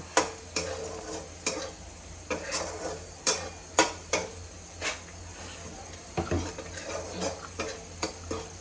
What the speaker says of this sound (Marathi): आपण हे चांगलं मिक्स करून घेऊया